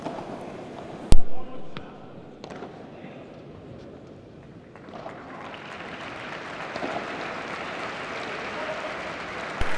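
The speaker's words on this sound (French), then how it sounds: "Applaudi par le public là, encouragé" Crowd at a professional padel tournament match in Lyon applauding and encouraging a player, a sharp ball strike followed by a swelling wash of clapping beneath a commentator's voice.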